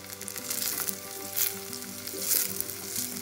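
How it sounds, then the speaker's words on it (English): Onions frying in hot oil in a pan for a green moong dhal curry, stirred now and then: a loud, continuous sizzle with surging bursts of crackle as the spoon moves, and no talking. "Stirring the onions, cook for 2 to 3 minutes until the onions change color."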